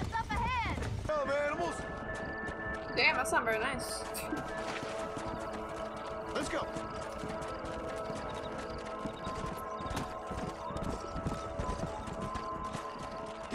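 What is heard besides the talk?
horse galloping in video game Red Dead Redemption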